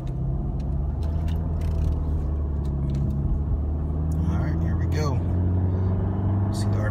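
A Lamborghini Aventador LP700-4 drives in Corsa mode, its engine a steady, low, droning hum with tones rising toward the end, heard from inside the car while a person talks.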